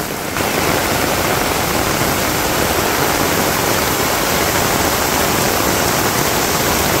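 Rain falls in a Bangladesh village as a loud, constant broadband hiss, uniform and unbroken from start to finish, with no voices present.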